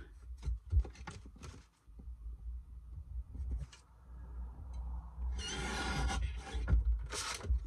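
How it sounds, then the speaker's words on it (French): Paper being cut for a handmade Christmas card, close snips and rustling scrapes in short bursts with a longer rasping stretch near the end, quiet and with no talking. "Je vais découper ici déjà."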